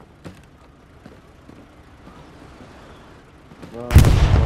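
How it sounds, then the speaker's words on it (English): Artillery fire in the World War II shooter Hell Let Loose lands as a sudden loud blast near the end, after a stretch of faint distant thuds and low rumble; a voice speaks briefly beforehand. "Fucking artillery"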